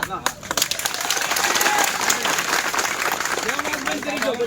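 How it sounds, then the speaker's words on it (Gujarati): Crowd applause at a Koli community political rally in Gujarat, steady clapping from a gathered audience sustained throughout, with a voice speaking over it. "અને આજ તમે આજ તાળી પાડો છો ને"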